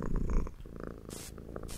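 Cat purring in the horror video game Befriended Curse, a soft, steady low rumble that continues throughout, with brief hissy bursts of game noise over it and no talking.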